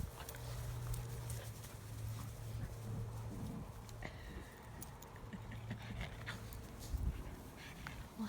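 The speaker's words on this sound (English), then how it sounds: "Funny puppies." Puppies and dogs of various ages playing during off-leash training, with faint scattered paws, pants and small yelps over a low steady background hum and occasional clatter, fairly distant and quiet.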